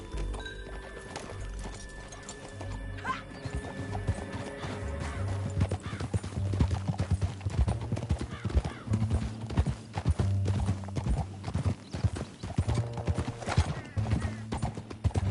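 Rhythmic hoofbeats clop along steadily at a gallop in the video game Red Dead Redemption 2, joined by a horse's whinny and a layer of background music.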